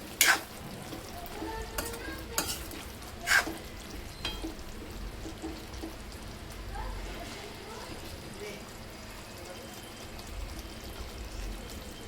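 Cauliflower, potato and peas sabzi being stirred with fresh coriander in a pan, giving scraping and soft sizzling textures with a couple of sharp metallic clinks near the start, steady and close throughout.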